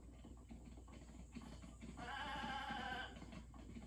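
A goat-like creature in The Legend of Zelda: Breath of the Wild bleats for about a second, a wavering nasal cry over a steady background hum with faint rustling and footsteps.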